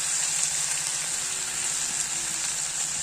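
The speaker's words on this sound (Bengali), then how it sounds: "আদা বাটা, রসুন বাটা দিয়ে এটাকে আমি একটু নাড়িয়ে নেব ভালো করে।" Ginger and garlic paste sizzles and fries loudly in a pan for a few seconds, a steady close hiss with faint stirring underneath and no talking.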